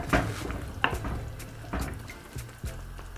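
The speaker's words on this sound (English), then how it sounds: "I'm just gonna give this a really good mix." Kefta tagine sauce stirred vigorously in a pot, with a utensil knocking and scraping against the pot in several irregular clunks and clatters, close and fairly loud, no talk.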